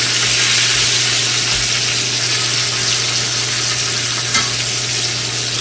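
Veal sizzles and fries in a pan with a constant, close, loud hiss that holds steady the whole time, with no one talking.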